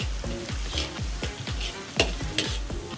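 Onions and garlic fry in a pan and are stirred in a quick, regular rhythm, each scrape of the utensil standing out over a steady close sizzle.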